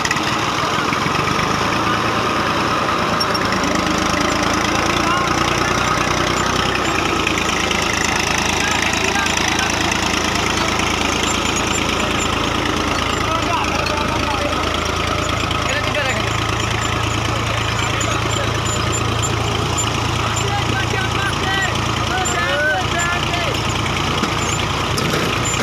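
A 240 tractor engine runs steadily at idle while driving a brick making machine, producing a loud continuous rumble and clatter for the whole stretch, with voices talking over it.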